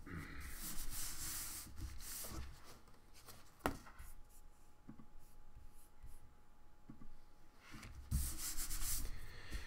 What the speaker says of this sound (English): I'm just gonna rub it, make sure that it is sticking down.